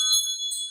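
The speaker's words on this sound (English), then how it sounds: "Let's call in spirit with a little bit of wind chime time." A wind chime rings briefly with bright, shimmering metallic tones that sustain and overlap, close and fairly loud, alone without any voice.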